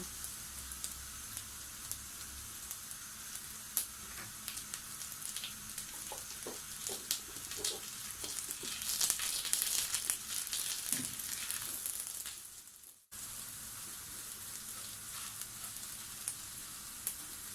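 Onions frying with a pinch of salt in a pan, a soft steady sizzle with faint crackles, quiet and alone, briefly dropping out near the end before resuming.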